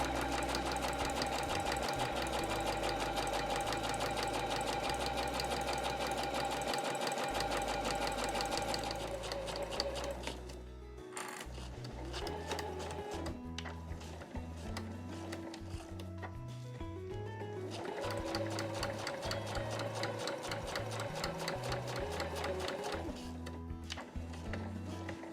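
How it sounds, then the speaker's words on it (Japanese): Sewing machine stitching both side seams of a tote bag, a loud close motor hum with rapid needle clatter, running steadily, pausing briefly, then resuming. "そしたら両側を5ミリで縫います。"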